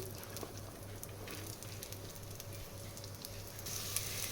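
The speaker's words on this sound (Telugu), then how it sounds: "ఆయిల్ హీట్ అయిన తర్వాత మీడియం సైజు ఆనియన్ని ఇలా ముక్కలుగా కట్ చేసి వేసుకోవాలి" Chopped medium-sized onion fries in a teaspoon of hot oil, giving a soft, steady sizzle with faint crackles and a low stovetop hum, fairly quiet and without talk.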